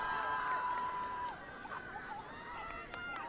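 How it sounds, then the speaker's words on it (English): Spectators cheer and shout at a beach lifeguard competition (a beach safety interzone event), a loud, busy crowd roar with a whistle-like tone and people talking over it throughout. "You can hear the crowd."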